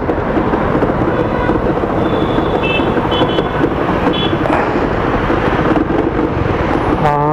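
Loud, continuous rough engine roar from a faulty motorcycle stranded by the roadside, grinding steadily throughout with a harsh, noisy texture and a brief rising tone near the end.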